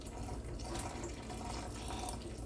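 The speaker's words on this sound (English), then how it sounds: "And then I'll go ahead and pour in the milk" Milk being poured from a fridge carton into a bowl of warm water for Nigerian puff puff dough, a steady, soft liquid stream running close by without pause and with no talking.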